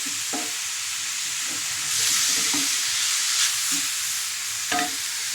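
Grated cabbage sizzles steadily in a hot pan while being stir-fried, with a constant frying hiss and a few louder scraping stirs against the pan, and no voices.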